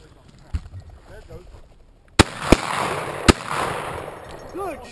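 A shotgun fired at a pheasant in the field: several sharp, loud cracks, one early and then a tight cluster of three, with birdcalls and a voice faintly underneath.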